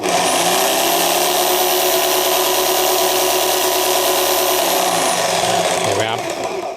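A loud, steady mechanical whine of a 650W Kress KU462 electric jigsaw running continuously with its dust blower off, then winding down near the end, with a faint voice counting over it.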